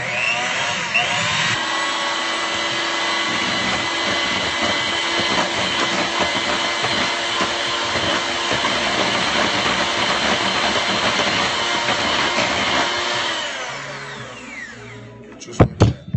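An electric mixer runs steadily for about thirteen seconds while combining two eggs into vanilla buttermilk cake batter, giving a loud, close, continuous whir that fades near the end before a few sharp knocks.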